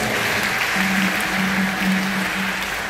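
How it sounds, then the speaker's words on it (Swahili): A church congregation claps together in steady, dense applause that holds at an even level throughout, with a low hum underneath and no talk. "Tumpigie Yesu makofi kwa kutukuza."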